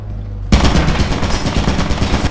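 A turret in Lethal Company opening fire, a sudden loud burst of rapid automatic gunshots that keeps rattling without pause after a quiet moment.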